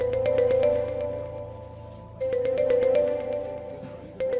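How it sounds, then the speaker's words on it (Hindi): A phone rings with a repeating electronic melody, the ringtone cycling twice at steady volume with a low hum underneath. "फोन बाद में सुन लेना प्लीज शाहनवाज"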